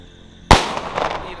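One close, loud Diwali firecracker blast cracks out suddenly after near silence, followed by a short decaying rumble and scattered crackle.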